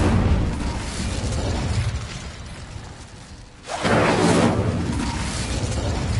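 A fire spell cast in Hogwarts Legacy, a roaring burst of flame that surges in over a steady rumbling game backdrop, loud and close, with a second whooshing flare swelling up partway through.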